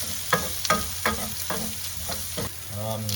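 Fennel seeds, onions and meatball sauce being stirred in a pan, with repeated scraping strokes of a spoon, about six in steady rhythm, over a close, continuous sizzle.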